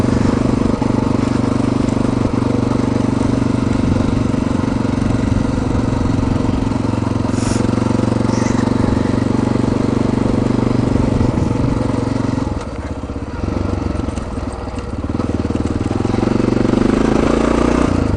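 A motorcycle engine drones steadily and loudly while riding a washboard dirt road on Mt. Herman Road, with a slight dip in level near the end and no talk.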